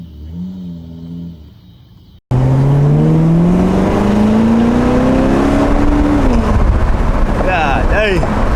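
A Corvette sports car engine revs up loudly and rises steadily in pitch, then eases off and changes gear near the end, a continuous close roar after a brief quieter stretch at the start.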